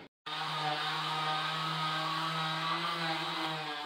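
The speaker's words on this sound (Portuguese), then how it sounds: "dando continuidade aqui nos cortes, nos lixamentos, nas lixações" A power tool starts abruptly and runs at a steady high whine while cutting and sanding wall panels inside a handmade van motorhome, loud and close for a few seconds.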